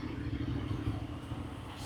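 Road traffic and wind rumble low and steady into a motorcycle helmet mic with the flip-front open, riding through Nottingham; no distinct vehicles stand out.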